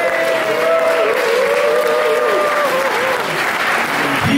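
Sustained applause from an audience at a live blues concert at the Apollo in Bremerhaven, Germany, steady and full for several seconds, with a tonal hum or music line running faintly underneath.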